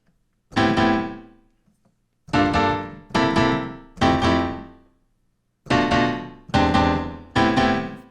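A hip-hop jazz chord progression, played in its final, fully embellished version, sounds as seven loud sustained chords in two groups separated by short silences, each one ringing out and fading, close and with no one talking.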